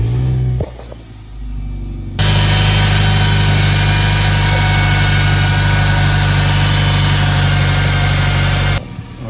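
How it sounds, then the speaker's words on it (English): A Nissan Sentra engine cranks and starts, then settles into a loud, steady idle as it warms up, with a low constant hum and broadband mechanical roar running close to the microphone until it cuts off near the end. "the very next step we want to do is start the vehicle and bring it up to temperature"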